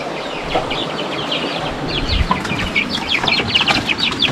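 Several chickens cluck and chatter steadily nearby, with scattered scratching and rustling noises mixed in.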